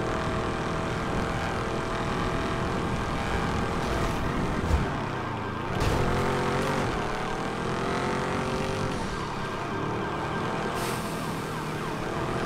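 A continuous whirring, droning roar of a helicopter in a video game, steady and fairly loud throughout, with shifting tones and a couple of brief bumps, no talking.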